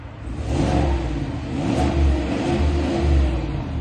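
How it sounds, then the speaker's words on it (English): A 2026 GMC Sierra Denali 1500 pickup truck engine revs up and down in park in a few rising and falling surges, close by and fairly loud, with no talking. "You have this engine."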